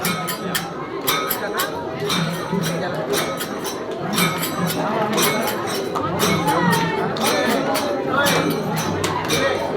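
A dense crowd of devotees gathers during aarti at Datta Mandir, a continuous murmur of many voices with bright repeated metallic ringing and clinking from bells, a voice talking over it nearby.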